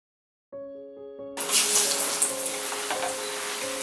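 Tomato slices in gram-flour batter, stuffed with green chutney, drop into hot oil for bajji and set off a loud, bright, continuous sizzle after a soft tonal hum, holding steady to the end.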